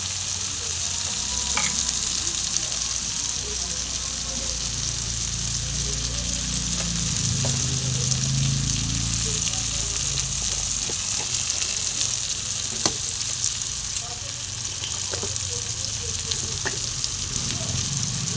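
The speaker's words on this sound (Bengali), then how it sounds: "এটা মশলাটাকে ভেজে নেব" Masala with chili powder frying in a little oil in a pan, a constant close sizzle with scraping stirring strokes running throughout and no voice.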